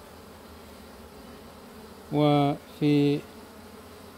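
Honey bees gather at a traditional hive being collected before autumn rain, giving two short, close buzzing bursts separated by a brief pause over quiet background.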